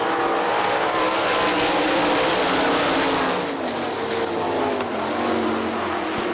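Sprint cars race on the dirt oval at Hartford Speedway Park, a dense, continuous roar of several engines held at high revs, loud and steady throughout with a slight dip midway as the pack sweeps past.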